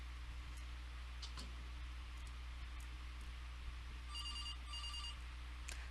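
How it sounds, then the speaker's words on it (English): A telephone rings in the video game From Next Door, two short bursts of bright electronic ringing over a quiet, humming room tone. "The phone's ringing."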